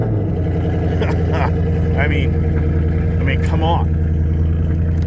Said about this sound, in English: now let's start this car up